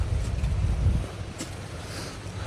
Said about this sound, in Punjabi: ਪੂਰੀ ਹਵਾ ਚੱਲ ਪਈ ਠੰਡੀ